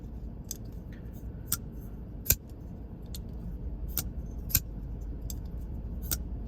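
A WE Saakshi folding knife snaps its blade open and locks repeatedly, giving sharp metallic clicks and thwacks spaced about a second apart over a steady low background hum, close to the listener.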